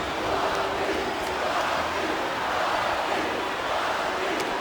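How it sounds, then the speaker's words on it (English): A dense wrestling arena crowd roars steadily throughout with a rhythmic chant woven in, loud and continuous with no pauses, at a televised WWE event. "Wow, listen to that chant."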